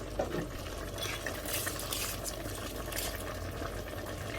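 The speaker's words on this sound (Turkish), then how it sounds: "Bir kaynasın. Yemeği kaynadı." Rice-and-eggplant stew boiling in a pot, a steady low bubbling and simmering hiss that stays constant throughout, close and moderately quiet.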